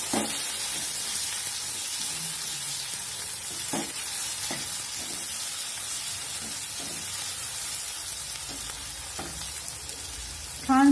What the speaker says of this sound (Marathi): एक मी उभा कांदा कट केलेला बारीक तो ह्याच्यात टाकून द्यायचा आहे